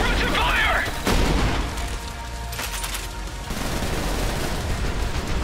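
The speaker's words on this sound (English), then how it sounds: "Suppressive fire." Suppressive gunfire in the shooter game Trepang2: dense, loud bursts of automatic fire mixed with heavy booms that roll on continuously with no pause.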